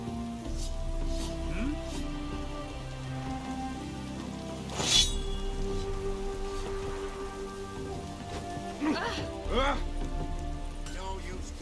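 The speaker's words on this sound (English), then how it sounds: "No use doing any work in this rain." Rain falls in the video game The Witcher 3, a soft, steady patter on surfaces that continues throughout, with a few brief voice-like sounds over it.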